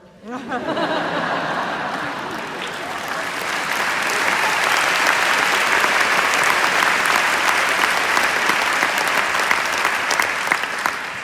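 A large crowd at a Sikh community gathering in support after the Pittsburgh synagogue shooting breaks into sustained applause, swelling within the first seconds and holding loud and steady to the end, with faint laughter mixed in.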